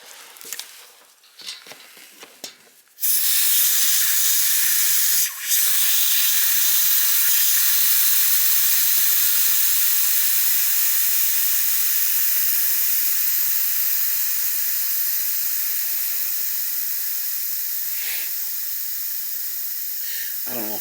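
Loud, steady hiss of air and water escaping while a gas boiler heating system is bled, starting abruptly after a few seconds of quiet handling noises and continuing near the microphone almost unbroken, with a brief dip partway through.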